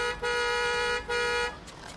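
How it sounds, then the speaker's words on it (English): Two sustained car horn hoots, steady and fairly loud, separated by a short gap, followed by a fainter third blast, heard alone with no talk. "Who's hooting?"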